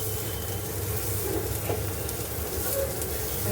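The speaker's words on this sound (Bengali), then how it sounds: "এইটুকু তেলেই আমি ভাজবো হচ্ছে পেঁয়াজটা ভাজতে থাকবো এমনি" Onion sizzling in a small amount of oil in a pan, a soft, steady frying hiss that stays even and fairly quiet from start to finish, with no voices.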